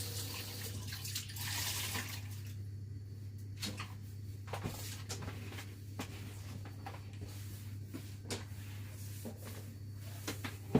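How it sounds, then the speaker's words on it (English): Hands washed under a running kitchen tap, water streaming steadily over a low electrical hum, with scattered knocks and clatters from the sink area and no voices. "let me just wash my hands."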